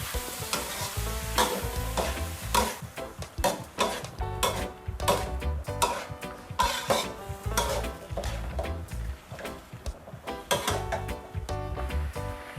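Sweet peppers and onion stir-fried with meatballs in a pan, busy repeated spatula scrapes and clanks against the pan over a continuous near sizzle, with a steady energetic rhythm.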